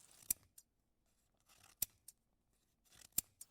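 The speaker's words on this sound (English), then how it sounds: "I've got the scissors here to cut off your head." Scissors snip through a paper photograph in three sharp, separate cuts about a second and a half apart, each followed by a softer closing click, close and fairly quiet against a near-silent background.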